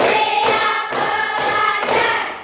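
Close, loud hand claps in a classroom, several evenly spaced sharp bursts in quick rhythm, with no voices over them.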